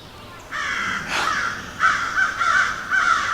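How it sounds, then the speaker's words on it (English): Crows caw repeatedly at a campsite in Prince Gallitzin State Park on a warm evening. The harsh calls come in several loud bursts, close by, with no talking. "Got the crows hollering at me."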